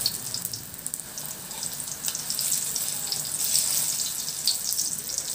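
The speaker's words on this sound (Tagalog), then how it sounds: "pipritohin muna natin yung saba" Saba bananas pan-frying in hot oil give off a steady, bright sizzle with light crackling pops, rising and falling slightly but never stopping, heard close and alone.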